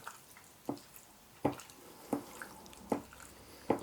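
Meat for a Chinese dish is massaged by hand with bicarbonate of soda and water, giving soft, wet squelches at a slow, uneven pace, roughly one every second, close and quiet with no talking.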